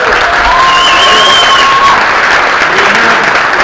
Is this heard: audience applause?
yes